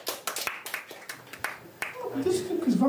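Scattered clapping from a few audience members at a Romanian stand-up comedy show, a loose run of sharp claps in the room that thins out before a voice starts talking near the end.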